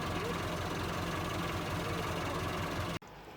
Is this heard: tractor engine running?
yes